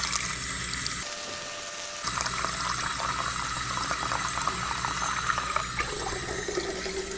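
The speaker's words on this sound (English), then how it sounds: "Now we'll head over here and we'll steal some cold tap water" Cold tap water running into a container in a home kitchen, a steady rushing and splashing flow that continues throughout with a brief hiss near the start, no voices.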